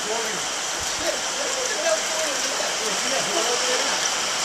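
Hail falling outdoors, a dense steady hiss and patter of ice hitting surfaces throughout, fairly loud, with faint voices underneath.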